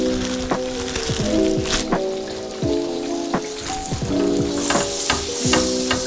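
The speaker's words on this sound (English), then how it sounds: "while we're waiting for our fish to finish frying up" Fish fillets, surf perch or croaker, frying in a pan with a steady crackling sizzle and scattered pops, moderately close, alongside faint tonal beeps.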